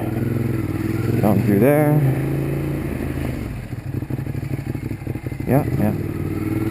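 A Ducati Monster 821 Stripe motorcycle pulls onto a highway, its engine droning steadily with a rising rev as it gets on, while a rider talks briefly over the wind-buffeted roar.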